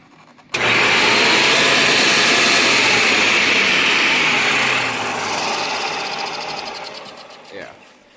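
A Hoover commercial top-fill upright vacuum cleaner switches on abruptly and runs with a loud, steady motor whine, then eases slightly toward the end, with a brief knock just before it stops.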